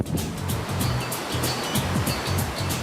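Big ocean surf pounds a busy beach with a steady, loud wash of breaking waves and rushing water, with no talk.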